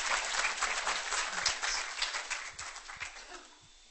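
Audience applause welcoming a guest speaker at a lecture on dysphagia management in dementia care, steady dense clapping filling the whole stretch and slowly tapering toward the end, with no voices over it.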